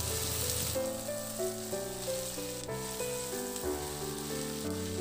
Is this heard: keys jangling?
no